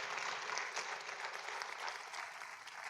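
Audience applause at a community forum, a steady round of many hands clapping at a fairly faint, distant level, with no talking heard.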